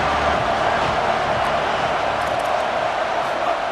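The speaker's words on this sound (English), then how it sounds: "Decibels rising as the crowd gets behind this defense on 3rd down." A steady, dense stadium crowd roar swells from the simulated stands of the video game College Football 27 during a third-down defensive stand, continuous and loud across the whole stretch with no clear breaks.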